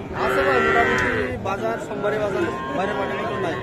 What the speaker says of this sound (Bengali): ছোট ছোট বাছুর যেখানে কেনা বেচা হচ্ছে, আমরা কিন্তু সে জায়গায় রয়েছি